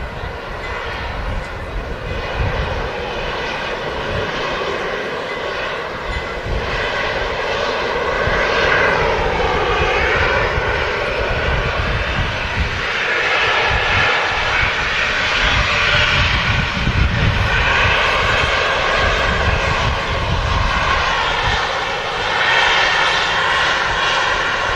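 A Flybe aircraft at Manchester Airport runs its engines near the runway, a loud sustained roar with a rising and falling whine that swells midway and holds for the full length.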